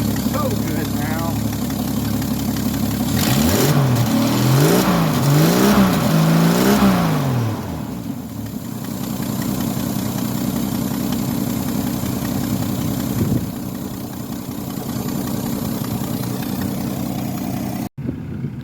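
A car engine idles, then revs up and down in repeated swells before settling back to a steady idle, loud and close throughout.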